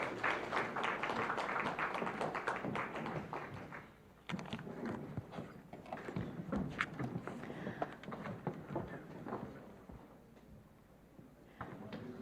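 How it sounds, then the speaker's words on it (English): Audience applause for a panel of speakers at a tech summit, a dense wash of many hands clapping that fills the hall, fades around the fourth second, then carries on more thinly and unevenly to the end. "Let's give our panelists a round of applause."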